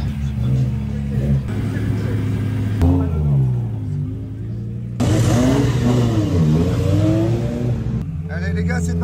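A BMW E21 with a swapped-in V10 engine drives and revs, its deep engine note rising and falling through loud surges with a sharp shift in tone partway, while people talk over it.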